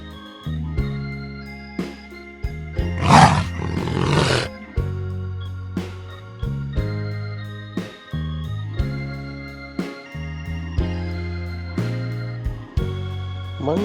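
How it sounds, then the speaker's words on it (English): Leopard roar from a children's animal-sounds toy: one loud, rough, raspy burst lasting about a second and a half, set against a steady, repeating melodic backing tune. "Leopard."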